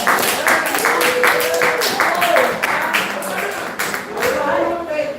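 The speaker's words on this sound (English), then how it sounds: "Y'all give a hand clap." Live-stream audience clapping along in response to a call for a hand, a dense run of claps that carries on for several seconds with talking voices layered over it.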